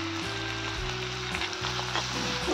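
Red chilli powder, salt and turmeric sizzle steadily as they roast in a pan for a wheat-flour ukadpendi, a continuous close frying hiss running under background music with sustained tones, no voices.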